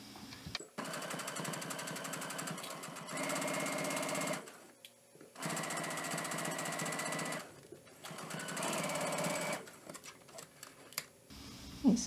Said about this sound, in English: Now I'm going to sew along the bottom edge of the binding.